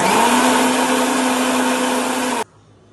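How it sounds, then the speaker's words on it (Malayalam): Electric mixer grinder crushing garlic, shallots, cumin, pepper and green chilies, a loud steady motor whine running for over two seconds before cutting off abruptly into near silence. "ഇത് നമുക്കൊന്ന് മിക്സിയിൽ ചതുക്കിയിട്ട് വരാം. നമുക്ക് അരച്ചെടുക്കാം കേട്ടോ."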